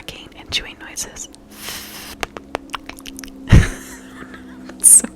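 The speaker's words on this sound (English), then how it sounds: "it says a bunch of lip smacking and chewing noises." Close-up whispered lip smacking and wet chewing noises come in scattered, irregular clicks and squishes, with soft whispering between them.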